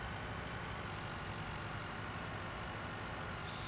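Tractor engine in Farming Simulator 19, driven around a farmyard: a steady, loud low rumble that holds constant throughout with no break or talk.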